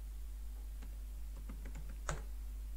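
Scattered keystrokes on a computer keyboard while entering Python code, a handful of light clicks ending in one sharper tap, heard faintly over a low steady hum.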